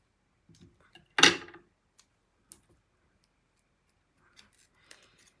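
Scissors make one brief, close snip through a foam strip during a craft kit assembly, followed by a few faint scattered clicks and taps on a quiet table.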